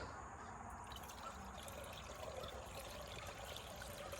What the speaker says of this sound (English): I'm just gonna fill it up all the way.